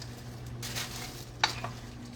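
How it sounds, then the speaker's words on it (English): Lasagna noodles being stirred in a pot of boiling water on a stove, with soft bubbling and scraping through the pass, a brief utensil clink against the pot midway, and no talk. "So we're going to give them a stir and try to get them wet while that's boiling"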